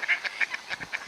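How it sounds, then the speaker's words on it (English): A flightless goose honks outdoors, about seven loud, close nasal honks in quick uneven succession, with no other sound. "There he is, the goose."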